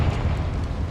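A Confringo spell blast in Hogwarts Legacy, a loud, rumbling explosion that fills the whole short moment with deep, sustained boom and crackling debris.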